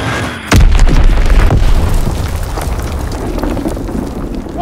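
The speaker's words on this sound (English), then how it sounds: "Enemy bomb incoming. Get to cover." A bomb blasts in the Call of Duty video game, a single heavy boom that breaks in sharply and then rolls on as a loud, sustained rumble with crackling debris.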